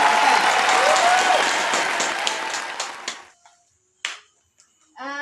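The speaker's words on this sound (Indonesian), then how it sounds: "Tepuk tangan kamu." Audience applause at a Minang comedy show swells loudly and then thins out, fading to scattered claps and short isolated bursts separated by near silence.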